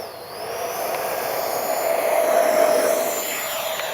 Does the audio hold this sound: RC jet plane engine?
yes